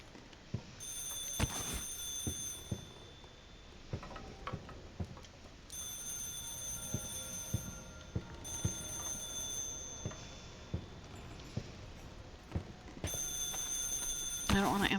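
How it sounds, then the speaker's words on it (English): A telephone rings in the eldritch horror RPG Stygian: The Outer Gods, with repeated bell-like bursts separated by pauses, heard faintly over ambient game sound with sharp ticks. "I don't want to answer the phone."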